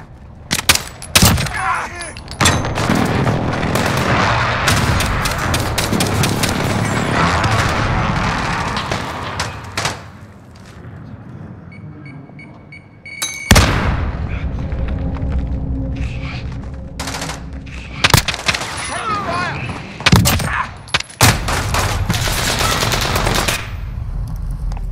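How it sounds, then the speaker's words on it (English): Heavy explosions and gunfire from a Call of Duty Modern Warfare match during a precision airstrike, with dense rapid blasts and bursts that pause briefly before more loud booms and sharp cracks return. "Friendly precision airstrike on the way."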